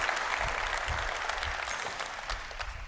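Continuous crowd applause, dense and steady throughout, with a few lower thumps beneath the clapping.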